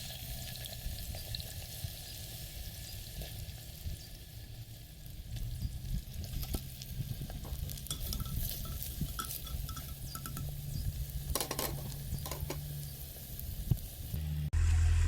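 Onions frying in hot oil in a clay pot for a chicken daleem, a steady close sizzle with faint clinks of stirring throughout, no talking.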